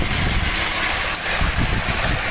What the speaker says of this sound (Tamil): அழகாக தண்ணி ஊற்றிக்கிட்டு இருக்குது.